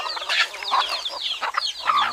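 Chickens and roosters in a rural Philippine yard cluck and squawk busily and close by, with overlapping calls filling the whole moment.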